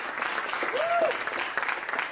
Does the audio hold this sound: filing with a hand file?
no